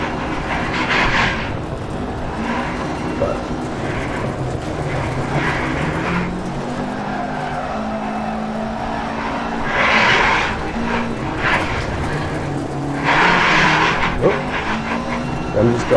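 A car driven around in a racing game on a motion simulator rig, with a steady engine drone and surges in pitch throughout, plus a few louder bursts.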